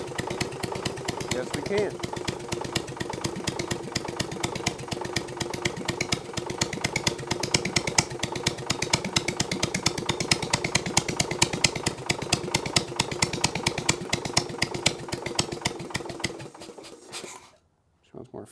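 An old Case trencher engine idles steadily with a fast, even chugging rhythm, loud and close, while a voice speaks briefly over it before the engine cuts out near the end.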